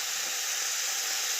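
Chopped tomatoes frying in a hot pan, with 1 teaspoon of salt, while cooking a meal for a Ramadan evening meal with barley kozhe. Steady, fairly faint sizzle runs evenly throughout with no talking.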